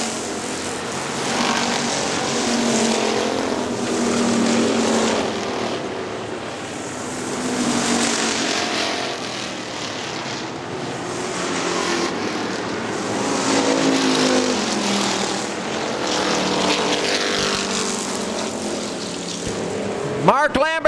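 Factory stock race cars roaring around Hartford Speedway Park, engine drone rising and falling in waves as the pack passes, with a race announcer talking over the din throughout.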